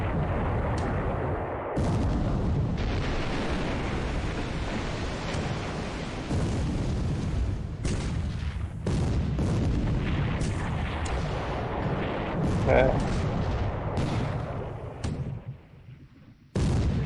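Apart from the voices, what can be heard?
naval gunfire and explosions in War in the Pacific video game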